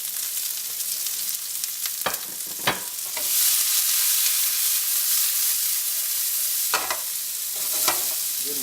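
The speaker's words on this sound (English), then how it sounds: "So we just want to give them a quick saute, and then out." Vegetables for a Thai peanut curry sautéing quickly in a hot pan, a steady close sizzle and hiss with a few sharp stirring scrapes and clatters breaking through.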